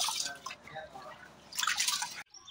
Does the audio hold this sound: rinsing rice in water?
yes